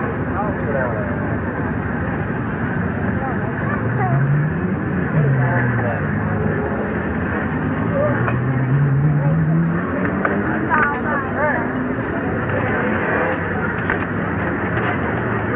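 Race cars circle Midvale Speedway in 1989, their engines droning and swelling as they pass, heard under a track announcer's running commentary.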